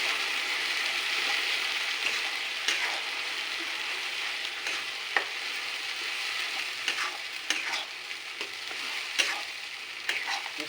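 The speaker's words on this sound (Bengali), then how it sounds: "আমি ভালো করে মশলাটা কষিয়ে নিই।" Spice masala for mutton curry, seasoned with salt and ground chilli, sizzles steadily in a hot pan while a spatula scrapes and stirs it in irregular clicks and scuffs, close and continuous without talk.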